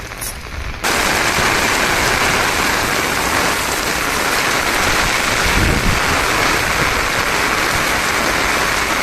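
Heavy rain pours down in a dense, steady roar that starts abruptly and holds loud and unbroken throughout, with no voices.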